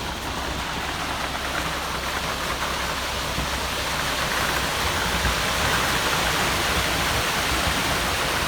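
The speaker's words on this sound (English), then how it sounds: "we just started pouring" Wet concrete rushes steadily from a cement truck chute into a barn foundation form, a loud continuous hissing wash like heavy rain or a waterfall that holds constant with no talk.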